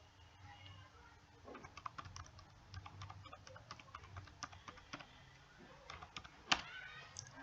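Fingers typing a card number on a computer keyboard at a point-of-sale payment screen, a run of quiet, irregular key clicks with a louder tap near the end, close and alone.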